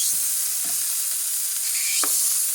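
Slices of bologna fry in a good hot pan, a steady close sizzle with a few soft taps and scrapes as the meat is laid in and moved.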